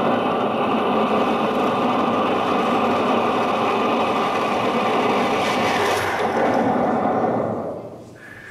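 A performer on stage at a Chinese New Year gala imitates a Boeing 747 with his voice, producing a steady, loud jet-engine roar that holds for several seconds and then fades away.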